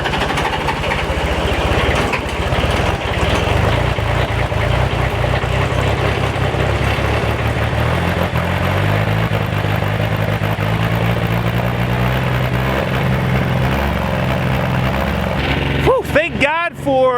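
Cold-weather start of the diesel engine on a 260 MRT machine, a loud continuous engine rumble running throughout with a few changes in pitch near the end, while people talk over it.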